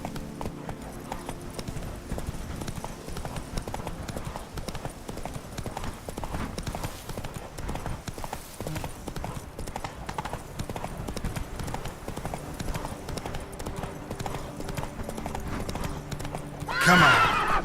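Roach the horse in The Witcher 3 gallops with fast, steady clip-clop hoofbeats throughout, ending with a sharp neigh.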